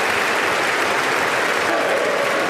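An audience applauds and cheers a presidential speech, a dense, steady wash of clapping that fills the short moment at moderate volume.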